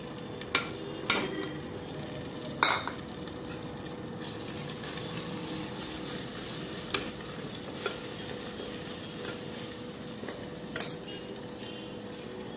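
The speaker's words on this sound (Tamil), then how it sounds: "அடுத்தது மிளகாத்தூள், கரம் மசாலா, மஞ்சத்தூள் சேர்த்துக்கிறோம்." Onions frying with chili powder, garam masala and turmeric for a mutton thali chalna, a steady close sizzle under repeated spoon-on-pan stirring scrapes and occasional sharp metal clinks.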